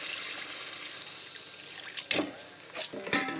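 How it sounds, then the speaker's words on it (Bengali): Water poured into a pan of fried fish curry masala, a soft close trickle and splash in short bursts near the end after a quieter stretch of steady cooking hiss. "এবার জলটা দিয়ে দেবো"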